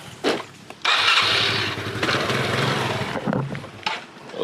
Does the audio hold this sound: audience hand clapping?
no